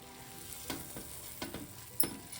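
Cashews and almonds frying in hot ghee for pineapple sheera, a soft steady sizzle with a few louder crackles and stirring scrapes, close and alone with no voices.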